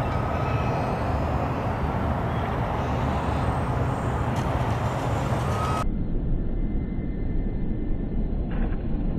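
A Nitroplanes PBY model airplane on its first flight gives a steady, loud engine drone that fills the whole stretch with no talk, its tone shifting abruptly partway through.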